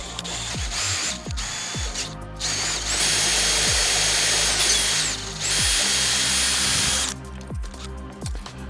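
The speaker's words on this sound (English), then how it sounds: "Keep your drill straight as possible." A power drill whines loudly at high speed, biting through a metal bracket of a light-bar integration kit for a 2023+ Ford Raptor in long sustained bursts, with brief pauses and short spin-ups in between.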